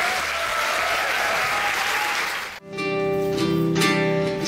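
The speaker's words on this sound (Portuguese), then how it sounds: "eu quero que vocês recebam com qualquer energia, com muita salva de palmas, a Bárbara Priscila." Loud audience applause fills a hall at a women entrepreneurs' council gathering in Sorocaba. The clapping is dense and steady for about two and a half seconds, then cuts to music.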